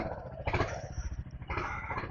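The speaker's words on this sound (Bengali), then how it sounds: "গাড়িটা স্টার্ট দিলাম।" A motorcycle engine sputters into a rhythmic idle, with two surges of throttle revving up nearby.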